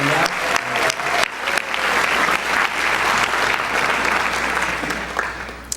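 A crowd at a school scholarship awards night claps in a full, sustained round of applause, dense and even, swelling slightly then tapering near the end, with no voices over it.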